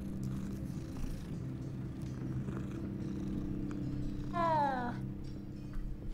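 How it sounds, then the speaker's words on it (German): A cat in the video game Hogwarts Legacy purrs in a low, continuous rumble, then lets out one clear, rising meow near the end. "Gute Wachkatze."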